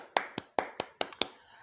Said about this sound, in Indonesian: Tepuk tangan untuk ibu-ibu dulu.